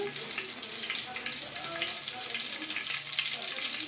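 Mustard seeds and cumin sizzle steadily in hot oil in a pan, a continuous bright crackling hiss with faint popping, close and alone.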